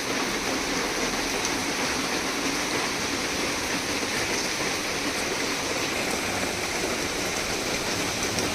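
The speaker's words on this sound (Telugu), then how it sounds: "ఇన్ని రోజుల నుంచి వర్షం లేదు కదా, ఈవేళ కొంచెం బాగా పడుతుంది." Steady, dense rain pouring down, a continuous broadband hiss with no voices, loud and close throughout.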